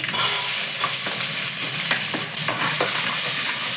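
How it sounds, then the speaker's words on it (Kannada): Onions fry in a pan with a steady, dense sizzle, and occasional stirring scrapes sound up close over the continuous hiss. "ಈರುಳ್ಳಿ ಸ್ವಲ್ಪ ಫ್ರೈ ಆಗಿದೆ"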